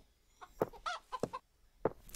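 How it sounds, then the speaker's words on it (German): A chicken in the voxel sandbox game Minetest clucks in several short, separate bursts, close and clear against a quiet background. "Da war gerade ein Huhn irgendwo"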